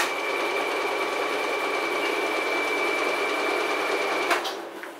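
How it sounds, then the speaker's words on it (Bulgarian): A printing machine's motor with a gear reducer and speed-control inverter runs at a steady, even hum with a constant whine, moderately loud, ending in a brief clunk. "Тук е сложен мотор с редуктор и с инвертор да променя скоростта на подаване на рамки."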